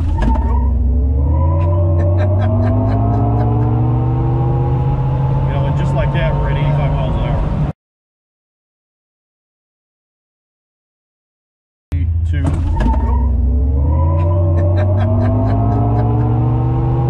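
A 2022 Hummer EV pickup launches hard, its piped-in synthetic drive sound climbing steadily in pitch under throttle, loud and close inside the cab, then cuts to silence before another rising run.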